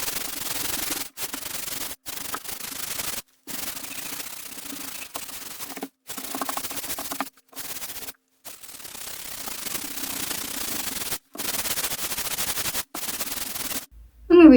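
Sanding a repaired bedroom wall by hand, repeated scraping strokes in bursts of a second or two separated by brief pauses, close and loud.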